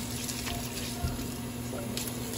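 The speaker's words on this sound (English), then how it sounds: "Turn the water on." Water runs steadily from a household tap into a sink as someone rinses a comb, a continuous close splashing hiss with no talk over it.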